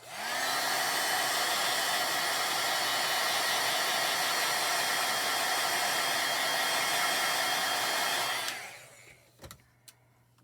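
A heat tool blows steadily on a freshly glittered card sentiment, a loud constant whirring roar that lasts about eight seconds and then cuts off, followed by a couple of soft knocks.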